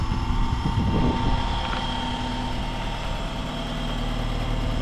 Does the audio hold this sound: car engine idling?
yes